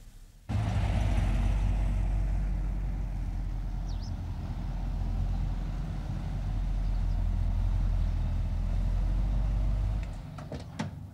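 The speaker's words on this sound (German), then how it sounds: "Wir hören der Wagen da draußen" A car outside a house, heard as a steady, muffled low engine rumble that runs for about ten seconds before cutting off, followed by a few faint clicks; no one speaks.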